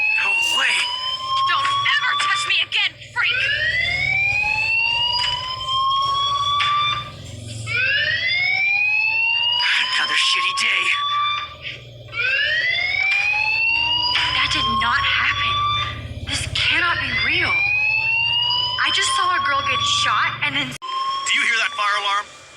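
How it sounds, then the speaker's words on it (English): A school fire alarm in the video game Life is Strange Remastered wails on, repeating rising electronic sweeps in a loud, insistent cycle for the whole stretch. Voices talk beneath and between the blaring tones. "fire alarm? That means you should be outside."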